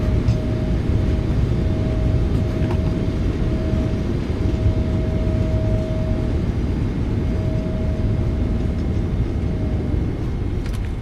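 A Boeing 777-300ER rolling out after landing in Microsoft Flight Simulator 2024, thrust reversers deployed: a loud, steady broadband engine roar with a faint thin whine held across it, fading slightly as the jet decelerates, no voices.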